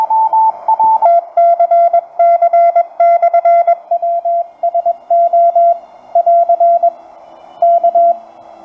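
A steady tone pulses in quick bursts, chugging rapidly on and off with brief gaps as a PFR-3B radio receiver sweeps in fast tuning, clear and close with no talking.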